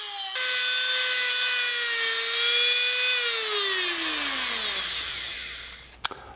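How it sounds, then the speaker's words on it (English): A cutoff wheel grinds steadily while rough shaping a boat shuttle for an antique sewing machine, a loud continuous whine whose pitch sags toward the end as the tool spins down, stopping abruptly after about six seconds. "using a cutoff wheel works great for rough shaping"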